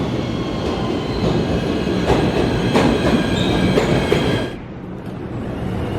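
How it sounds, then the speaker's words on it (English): A train bound for Journal Square rumbles along the rails with rhythmic clacks and a faint wheel squeal, then the roar drops off suddenly near the end. "This is the train to Journal Square."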